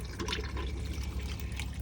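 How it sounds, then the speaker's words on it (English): Flush water swirls around the bowl of a Thetford cassette toilet in an AutoTrail Mohawk motorhome, a close, steady trickling and pouring that lasts throughout. "flush water comes around"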